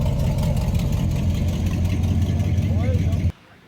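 A low engine drone rumbles steadily beneath a voice at the All American Day event in De Westereen, then cuts off abruptly near the end.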